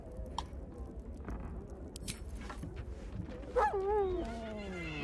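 Scratch, the dog in Baldur's Gate 3, howls in a long, wavering, rising-then-falling call near the end, over a steady game background.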